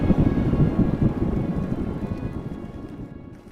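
Heavy rain pours steadily with low rumbles of thunder in a cartoon scene, a dense, loud, continuous wash that eases slightly toward the end.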